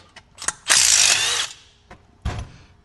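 A ratchet loosens the cylinder head bolts on a 500i engine. A close, loud, rapid clicking run lasts nearly a second, with thuds and shorter clicks before and after. No one speaks.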